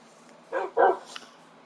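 A Minecraft dog gives two quick, close barks in succession, clear and alone with no talk over them, followed by a faint short yip.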